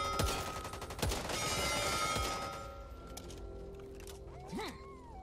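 Gunfire in the zombie shooter Back 4 Blood: a dense, loud burst of rapid shots at the start, then sparser cracks fading into quieter game ambience with a creature screech near the end.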